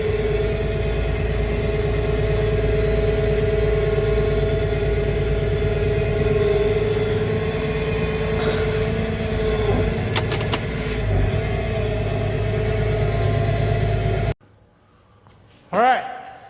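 A tractor engine idles steadily and loud for about fourteen seconds with a low, even drone, then cuts off abruptly, leaving near silence broken by a brief faint sound at the end.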